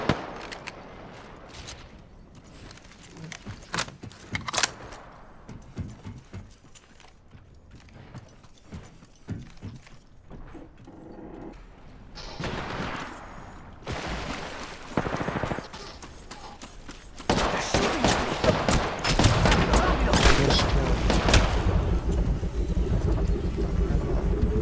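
Gunfire in Apex Legends, with scattered single shots early on and then dense rapid bursts of automatic fire building to a loud, sustained volley, while a voice talks in between.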